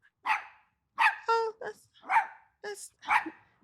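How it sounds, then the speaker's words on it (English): A dog barks repeatedly in harsh, snarling bursts, close and loud, with short gaps between each bark. "That dog sounds like they got rabies."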